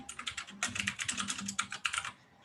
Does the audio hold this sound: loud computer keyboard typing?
yes